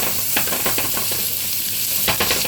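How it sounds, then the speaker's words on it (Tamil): Onions sautéing in a pan with fennel seeds, cashew nuts and cinnamon for a coconut milk egg kurma, a continuous close sizzle with a few scraping stirs of the spoon. "வதக்கலாம்"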